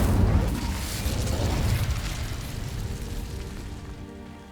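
Incendio fire spell cast in Hogwarts Legacy on dry vines: a loud whooshing burst that roars and crackles, then slowly fades into a softer rumble.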